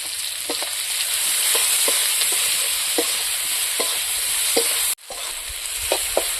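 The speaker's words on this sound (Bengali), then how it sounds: "পেঁয়াজ কুচিটাও আমি আবারও হালকা করে একটু ভেজে নেব।" Chopped onion frying with salt in a pan, a steady close sizzle broken by regular scrape-and-stir knocks of a spatula, with a brief pause near the end before the hiss resumes.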